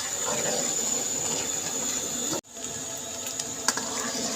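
Semolina halwa fries in a pan with a steady, close hiss and sizzle that drops out abruptly for a moment, then resumes with a few small pops and spatters.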